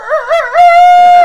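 A voice imitates a rooster crowing, loud and close: a warbling, wavering opening that breaks into one long, high, sustained call, alone without other sounds.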